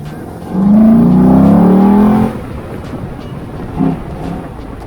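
A car cruising at speed rumbles past in a loud low engine surge lasting about two seconds, fading into road and wind noise with a brief later bump.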